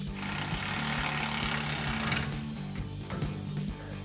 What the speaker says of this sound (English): take a 5mm Allen socket to tighten down our two